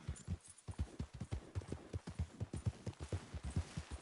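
Horse hooves clip-clop in a steady trotting rhythm in the video game Red Dead Redemption 2, clear and close with no talking over them.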